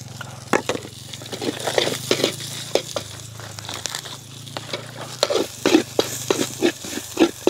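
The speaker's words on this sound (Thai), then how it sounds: "เอาเครื่องลงไปผัดครับผม" Ingredients for a Thai basil stir-fry with pork sizzle in a pan with a little oil, with repeated scraping and clattering strokes of a spatula over a continuous crackle.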